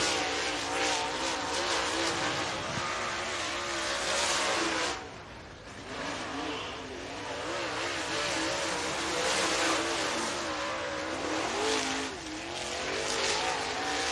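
Race cars roar around the dirt track at Duck River Raceway Park in Lewisburg, Tennessee, a steady loud engine drone swelling and fading as they circle, with faint speech underneath.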